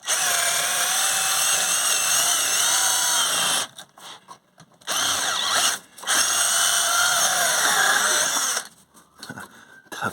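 A power drill whirs loudly in long bursts, stopping briefly twice, grinding with a high mechanical whine as it bores into a rubber rear axle bush on a Vauxhall Astra.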